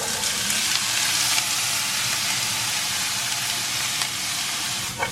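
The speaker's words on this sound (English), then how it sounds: "We're going to saute the veggies first." Veggies and Italian sausage meat sauteing in olive oil in a pan give off a loud, continuous sizzle with a few soft stirring scrapes and no talk.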